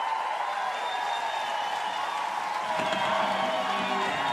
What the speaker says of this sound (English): That is getting the crowd fired up here in Tallahassee.